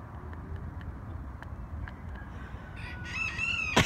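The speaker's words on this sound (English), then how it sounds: "There's the rooster." A rooster crows near the end, loud and close, after several seconds of quiet outdoor ambience with faint clicks.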